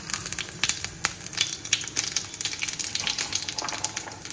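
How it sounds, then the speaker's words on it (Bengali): Cumin seeds tempering in well-heated oil, crackling and spitting close by in sharp irregular pops over a soft, constant sizzle. "তেলটা ভালো করে গরম হয়ে গেছে, জিরে দিয়ে দিলাম, ফোড়ন"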